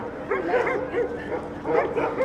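A search-and-rescue dog yips and barks in short excited bursts at earthquake rubble in Izmir, fairly close, with whimpering tones between them.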